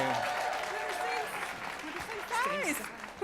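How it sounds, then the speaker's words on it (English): Applause from the audience at a live storytelling event, a steady wash of clapping filling the room with a voice speaking over it. "Big round of applause for Erica, everybody."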